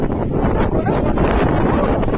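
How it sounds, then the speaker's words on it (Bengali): Strong wind gusts batter the microphone outdoors, making a loud, continuous rumbling roar with no pauses for the whole stretch. "দেখছো কি জোর হাওয়া দিচ্ছে"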